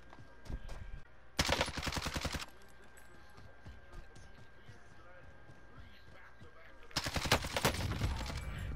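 Automatic gunfire in Call of Duty: Warzone comes in two sharp, rapid bursts of roughly a second each, loud and close, with quieter game ambience and faint clicks between them.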